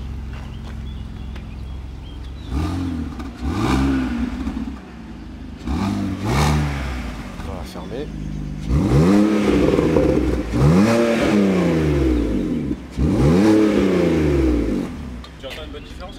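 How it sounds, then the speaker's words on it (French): A BMW car engine revs repeatedly while stationary, in several loud close bursts that each rise and fall, separated by idle pauses, with a brief spoken comment in French. "je fais un petit vroom vroom"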